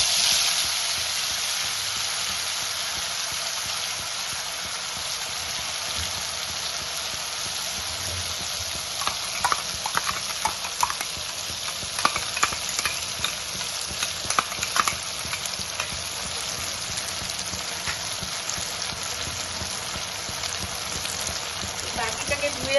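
Bengali chicken pepper masala paste frying in a pan, a continuous hiss and sizzle with a burst of spoon scraping and stirring in the middle, fairly close and without talk.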